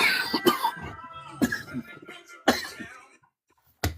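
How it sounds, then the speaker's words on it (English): A man coughs repeatedly in harsh bursts, roughly one each second, with throat-clearing in between, close to the microphone during a live show. "I haven't been able to shake this cough for 2 days."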